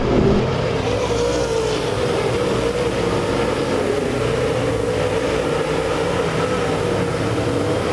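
Dirt track race cars roar together through a heat race at Lake Ozark, a steady, loud engine drone with no break across the whole stretch.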